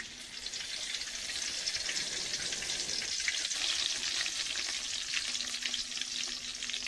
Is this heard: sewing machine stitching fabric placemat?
no